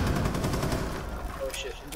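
Gunfire in the tactical shooter Rainbow Six Siege, a dense, rapid burst of shots under excited talk, fading into scattered quieter sounds near the end.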